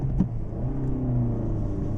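Toyota Glanza hatchback with about 45,000 km on it accelerating hard in a 0 to 100 run, a loud steady engine drone from inside the cabin rising in pitch as it builds speed, with a brief knock near the start.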